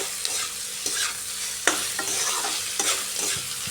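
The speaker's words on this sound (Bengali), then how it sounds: "পেঁয়াজটাকে এবারে একটু ফ্রাই করে নিচ্ছি" Sliced onion with a little salt frying in a pan, a steady close sizzle broken by several sharp scraping stirs of a spatula, no voices.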